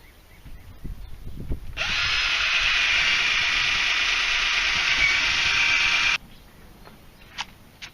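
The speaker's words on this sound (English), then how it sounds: "Just drill all the way through, of course, from the wood and into the tire." Power drill bores through wood and on into a tractor tire, one steady, loud whirring run of about four seconds with quieter handling noise before and after.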